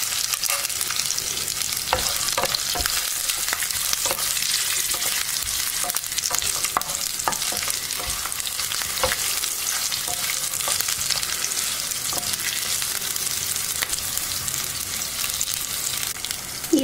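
Urad and chana dal frying in oil with dried and green chillies for an amla chilli chutney: a bright, steady sizzle with repeated scraping stirs and ladle clicks, close and continuous with no talk.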